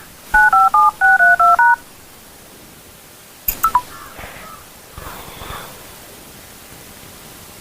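Two quick bursts of telephone keypad tones ring out as a number is dialed, a rapid series of short beeps, followed by fainter clicks and line noise.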